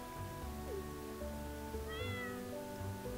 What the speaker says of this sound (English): Kitty cat! What should we name the cat?